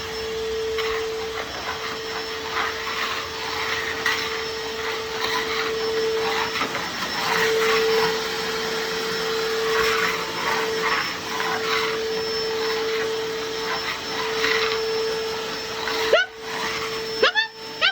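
A vacuum cleaner runs steadily with a loud whining drone throughout, with a person speaking faintly beneath it near the end.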